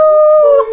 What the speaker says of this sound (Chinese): 不然呢就跟你呲牙咧嘴汪汪叫